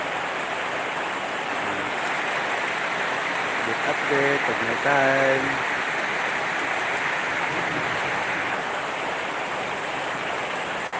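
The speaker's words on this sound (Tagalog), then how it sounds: "Ang lakas ng ulan." Heavy rain pours down in Maasin City, Southern Leyte, as a dense, steady hiss that fills the whole stretch; a voice speaks briefly partway through.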